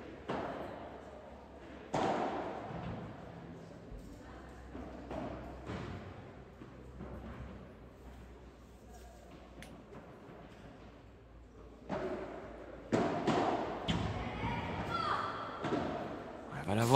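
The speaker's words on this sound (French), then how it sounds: "Jennifer avec ce super coup droit qui vient trouver la grille." Padel ball struck with a forehand in a club tournament match and thudding into the wire fence, several dull hits and rattles heard amid a commentator's voice and court noise.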